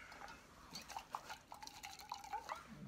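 Hot water poured into a cup beside a Solo Stove at a trail shelter, a faint rising liquid trickle with small clinks, quiet and close with no talk.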